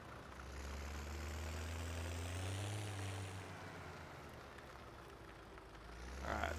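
A steady low tractor engine drone in Farming Simulator 17, carrying a front loader, running continuously at an even level with a slight rise in pitch partway through.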